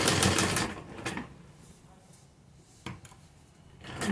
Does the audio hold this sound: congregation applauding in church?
no